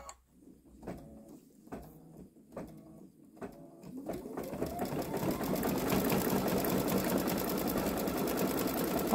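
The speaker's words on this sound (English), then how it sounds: "I'll start it up again" A Baby Lock Solaris Vision embroidery machine sewing on a boy's long-sleeve shirt: a few slow, separate stitch strokes, then a steady fast mechanical whir that builds up and keeps going, close by and heard alone.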